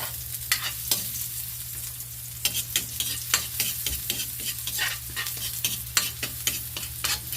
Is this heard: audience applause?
no